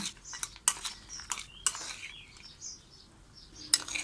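Spicy crispy pork herb salad is served onto a plate with utensils, giving several sharp metallic clinks and scrapes against the dish, fairly quiet and close, with soft rustling between.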